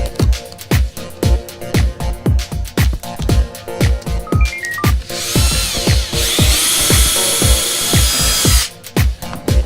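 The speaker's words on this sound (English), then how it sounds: "We recognize it's Steve drilling" A power drill whirs in short repeated bursts, then runs in a longer continuous high-pitched spin before stopping, loud and close.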